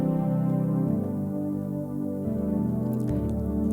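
A Prophet-style synth patch played on a Nord Electro 6D with the filter engaged, sustained chords shifting through several changes, warm and buzzy, loud and close with no voices.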